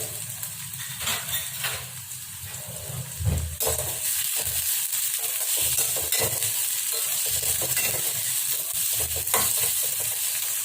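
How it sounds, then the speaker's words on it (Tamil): Three large onions sauté with fennel seeds and curry leaves in a pan for tomato thokku, a continuous close sizzle broken by scraping stirs and occasional utensil clatter. "இது வந்து அந்த வெங்காயம் நிறம் மாறுற வரைக்கும் நல்லா வதக்கி விடுங்க"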